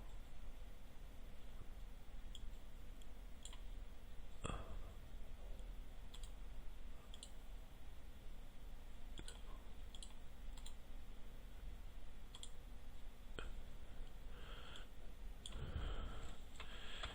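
Sparse computer mouse clicks, some in quick double pairs, tick faintly over a quiet background hiss while someone works at a computer.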